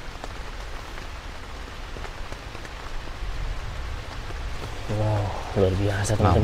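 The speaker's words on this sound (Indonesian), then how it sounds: "Hujan nih." Heavy rain drums steadily on a camping tent, a dense hiss and patter that stays loud throughout, with a voice speaking over it near the end.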